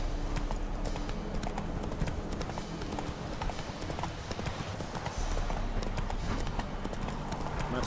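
Hooves of the horse Roach in the video game The Witcher 3, a steady clip-clop of riding running under continuous game sound and a voice.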